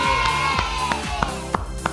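A crowd at a street disinfection operation bursts into applause and cheering, loud and close, a dense wash of clapping with a few sharper claps standing out.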